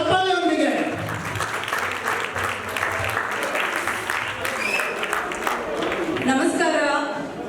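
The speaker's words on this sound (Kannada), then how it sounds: "ದಯಮಾಡಿ ಅವರಿಬ್ಬರಿಗೂ ಬರಮಾಡಿಕೊಡ್ಬೇಕು ಚಪ್ಪಾಳೆಯೊಂದಿಗೆ" An audience at a Kannada association's Ugadi celebration in Richmond applauds to welcome two hosts, a sustained wash of clapping from a crowd with a voice briefly heard over it near the start and end.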